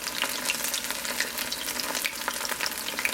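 Vegan oyster mushroom fish cakes, pressed flat, fry in an iron pan with a steady, close sizzle and fine crackling spatter throughout.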